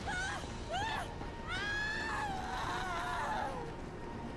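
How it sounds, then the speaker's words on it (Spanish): People scream in GTA 5 during a zombie apocalypse scene, several rising and falling shrill cries in quick succession over a steady background rumble. "Escucho personas gritando."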